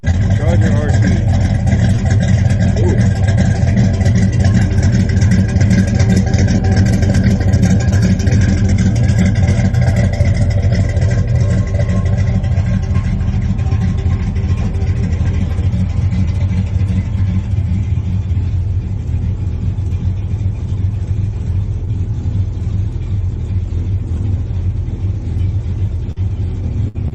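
Mopar Dodge Charger R/T muscle car engine, a deep, loud, steady rumble with rhythmic throbbing that continues throughout and eases slightly toward the end; voices seem mixed in underneath.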